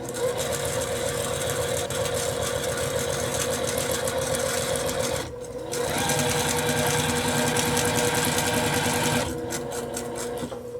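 A sewing machine stitches a fabric heart pillow, running in a fast, close, continuous whir that pauses briefly, resumes, then eases off near the end.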